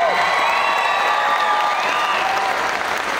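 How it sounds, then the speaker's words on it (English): A crowd at an amateur fight night applauds and cheers for two young fighters, dense steady clapping with scattered whoops filling the whole stretch at close, even loudness. "give me a big round of applause for these young men"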